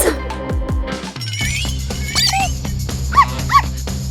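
A small dog yips and whimpers in short bursts, close by, over a busy background with some music-like tones.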